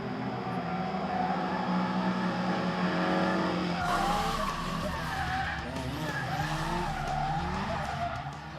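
Several drift cars driving together at a grip event, engines droning and tires squealing and skidding continuously, loud and close with a harsh burst of noise midway.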